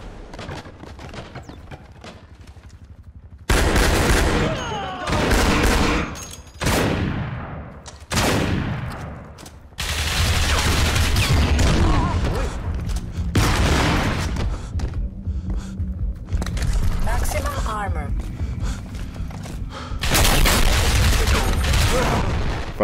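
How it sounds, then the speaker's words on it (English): Gunfire and a grenade blast in the video game Crysis: loud bursts of automatic fire in repeated clusters, with booming impacts and a sustained stretch of heavy shooting, no talk. "Oh, they threw a grenade in here!"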